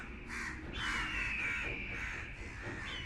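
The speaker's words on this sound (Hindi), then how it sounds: "खुले आसमान की तेज धूप में चील कौवे मंडराना शुरू हो गए।" Crows cawing under an open, sunny sky, several harsh caws in quick succession, fairly faint and with no voices over them.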